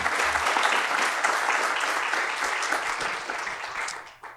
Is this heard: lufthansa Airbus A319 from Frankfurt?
no